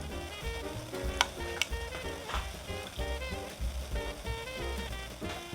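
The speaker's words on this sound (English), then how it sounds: "we have to constantly stir it until it thickens" Vinegar dressing stirred steadily in a pan as it thickens, a soft scraping stir over gentle sizzling, quiet and close, with faint ticking in the background.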